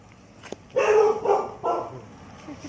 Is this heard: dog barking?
yes